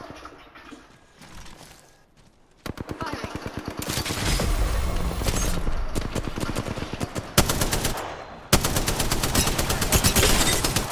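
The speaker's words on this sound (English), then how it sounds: "They're shooting at me." Rapid gunfire in an Apex Legends match, loud sustained bursts of automatic shots rattling for several seconds after a quieter lead-in, with no speech over it.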